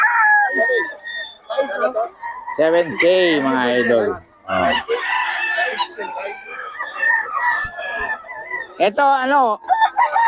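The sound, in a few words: rooster crowing, gamefowl for sale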